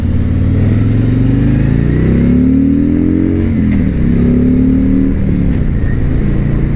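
A Harley-Davidson Freewheeler three-wheel motorcycle accelerates up to road speed, its loud, close engine note climbing through rising pitch sweeps and dipping briefly between gear changes.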